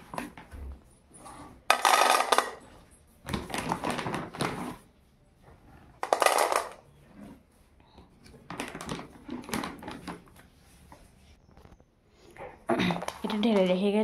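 Food pours into a bowl for Koko, a pet dog, in a series of short rattling bursts close by, with a voice talking between them.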